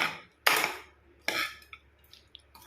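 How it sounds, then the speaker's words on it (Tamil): Coconut rice with salt being mixed in a pan, heard as two distinct scraping, clattering bursts of utensil against metal, followed by a few lighter clicks and taps, close by with no talking. "இப்படி ஒன்று சேர எல்லாத்தையும் மிக்ஸ் பண்ணி விடுங்க"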